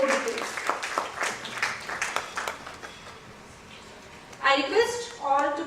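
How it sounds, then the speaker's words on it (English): An audience at a World Standards Day event claps in a thin, scattered round of applause, with a loud announcer speaking over it throughout. "A huge round of applause for the more than 4 decades."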